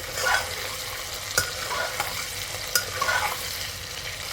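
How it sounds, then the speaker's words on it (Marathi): Soybeans stir-fry for masale bhaat with a close, continuous sizzle, broken by a few scraping stirs and spoon knocks against the pan. "हे पण आपण छान परतून घेऊया"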